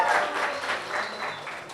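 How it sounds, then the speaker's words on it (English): Audience applause at an Indian film success event for Mary Kom, brief steady clapping from a crowd lasting under two seconds. "can we have a huge round of applause for this"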